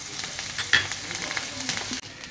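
Curry leaves sizzling as they fry in a tempering for barnyard millet pongal, with continuous crackling and spitting under a brief sharp pop and faint stirring, fairly close and steady.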